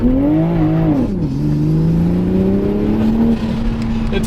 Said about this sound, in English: Alright, we're gonna do a little launch control